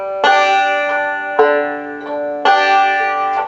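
A banjo plucks quarter notes in a lesson setting, three bright ringing strikes spaced evenly about a second apart, each decaying slowly, close and clear with no talking.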